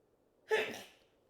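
A single short, sharp sneeze bursts out of near silence, brief and close.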